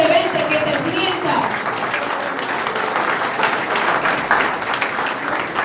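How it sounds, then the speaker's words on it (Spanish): Sustained applause from a crowd at a campaign office opening in Santo Domingo Oeste, steady and dense throughout, with voices mixed into the clapping. "También el aplauso para el proyecto Rampi 2020, que se sienta."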